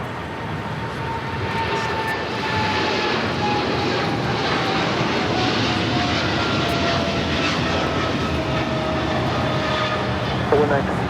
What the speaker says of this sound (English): This is DHL, operated by Polar Air Cargo 962, taking off to Cincinnati on a 777 freighter.